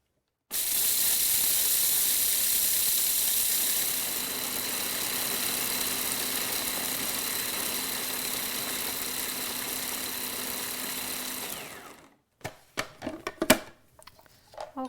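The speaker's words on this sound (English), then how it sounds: "we're going to grind these up in the food processor here" Sunflower seeds ground in a food processor: a loud, steady whirring hiss running for about eleven seconds, then stopping abruptly, followed by a few rattling knocks as the machine is handled.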